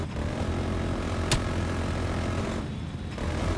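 Jet aircraft in Call of Duty Black Ops Cold War drones steadily as a continuous engine roar with one sharp transient partway through, holding at a moderate, even level throughout.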